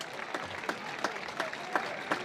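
Football fans at a Lewes FC versus FC Oslo match applauding a player as he comes off the pitch, a steady distant round of clapping with a few sharper claps standing out.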